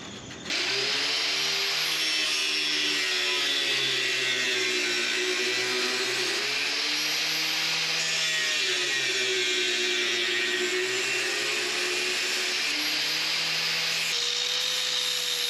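A power tool cuts a small window into the metal of a car hood latch. It gives a loud, continuous grinding whine whose pitch wavers up and down for the whole stretch.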